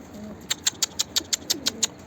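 A quick, even series of about nine soft flapping beats, like pigeon wings fluttering nearby, over faint background noise.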